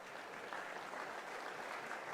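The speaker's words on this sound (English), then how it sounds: "To a warm, welcoming and heartening round of applause here." Crowd at a rugby league match between Bradford Bulls and Toulouse Olympique breaking into warm, steady applause as an injured player is carried off, a continuous wash of clapping from a large crowd.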